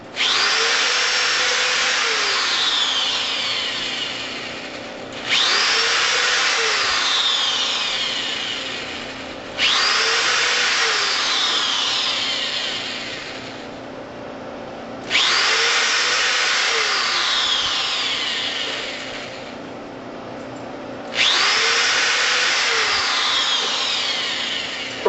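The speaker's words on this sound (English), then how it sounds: "when I actually screw the screws in to attach the legs to the mounting block" A power drill whines in five long bursts spaced a few seconds apart, each spinning up sharply then slowing as screws bite into wood, attaching legs to a mounting block.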